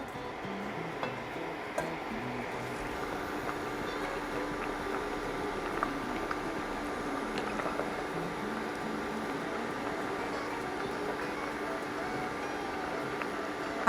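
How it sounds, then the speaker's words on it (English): Tom kha kai soup of chicken stock bubbles in a pot, a soft steady simmer with gentle popping, plus faint clinks and brief kitchen noises. "now our soup is boiling again"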